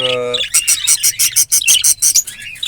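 Budgies, small Australian parrots nesting in a breeding box, chatter in rapid, loud, close chirps and squawks, a dense run of short bursts tumbling over one another.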